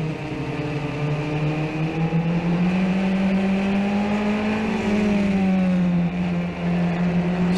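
Formula 1600 open-wheel race cars charging into turn 1 on the opening lap, a loud close engine drone with a rising and falling pitch, several cars overlapping as revs shift.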